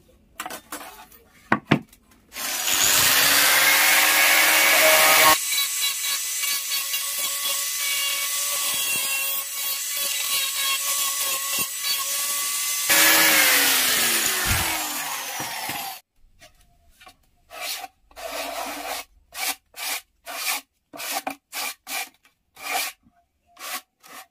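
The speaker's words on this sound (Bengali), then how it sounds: "তো এর জন্য এই দিকটাকে একটু ঘষে নেব।" Wood of a handmade tenor banjo neck being sanded, a steady rasping, rubbing scrape that runs continuously for several seconds at a time, then breaks into a series of short, separate strokes.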